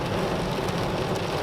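Sudden heavy rain pouring down at a nomad's outdoor camp, a dense, steady roar of drops hitting surfaces, loud and close without pause, with nobody speaking.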